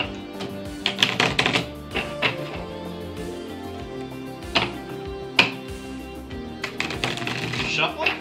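Playing cards shuffled during a game of double solitaire, a run of quick riffling taps and snaps in uneven bursts, close by with voices talking over them.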